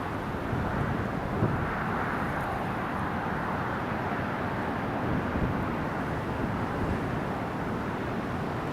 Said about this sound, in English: Jet2 738 is taxiing to Delta 1